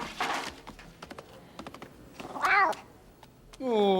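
A kitten meows in a French cartoon set around a circus, two clear rising-and-falling meows standing out near and fairly loud between scattered light tapping clicks.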